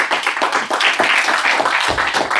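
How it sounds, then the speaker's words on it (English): An audience claps steadily for a couple of seconds, a dense, close patter of many hands. "clap"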